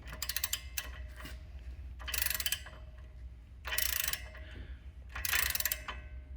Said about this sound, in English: So now you need a 19 millimeter on a ratchet.